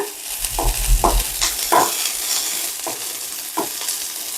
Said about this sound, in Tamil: இது லேசாக கொஞ்ச நேரம் ஃபர்ஸ்ட் நம்ம வந்து என்ன பண்ணுறோன்னா வதக்கிக்கிறோம்